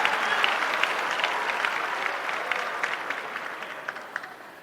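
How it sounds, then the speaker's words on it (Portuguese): A church congregation claps in praise to God, a broad wash of many hands with sharper individual claps standing out, gradually thinning and fading toward the end. "uma salva de palmas a Ele que é santo"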